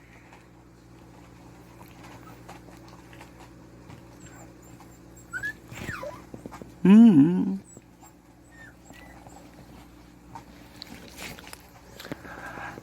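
A litter of seven puppies, about 53 days old, whimper and whine in short high squeals, a brief louder cluster in the middle, with soft murmuring sounds and quiet background rustle.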